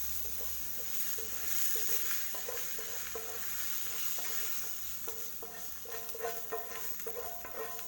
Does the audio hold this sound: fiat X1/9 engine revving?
no